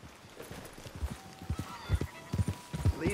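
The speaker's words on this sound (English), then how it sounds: "Just get on the horse." Horse trotting in Red Dead Redemption 2, with a steady series of hoof clops building in loudness, a faint tonal game sound running underneath.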